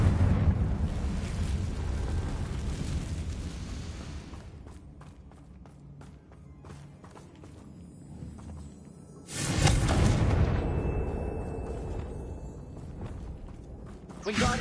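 The Confringo fire spell goes off in Hogwarts Legacy with a roaring, rumbling blast at the start that fades slowly, and then a second loud burst of fire and debris comes midway, with scattered mechanical clatter in between.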